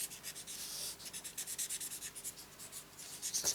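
A blender pen rubbed clean on a surface during stamping and card-making, giving a soft, steady scratchy rubbing in repeated short strokes, close and fairly quiet with no talking.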